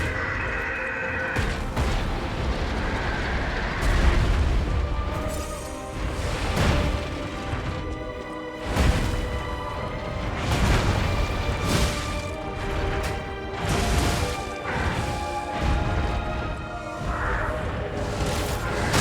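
The boss's artillery fire in Lies of P bursts in a string of loud crashing blasts and whooshes, repeating irregularly across a long stretch of heavy combat noise with a sustained musical drone underneath.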